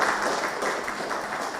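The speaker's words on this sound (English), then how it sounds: "Applause for her once again." Applause from an academic audience at a sustainability teaching workshop, a steady, even wash of many hands clapping throughout at moderate volume with no voices on top.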